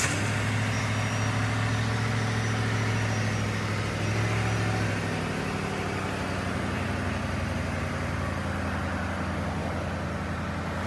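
A 2009 Ford Crown Victoria P71 Police Interceptor V8 settles into a steady, low idle, a continuous rumble heard from nearby with no talking, its tone shifting slightly partway through.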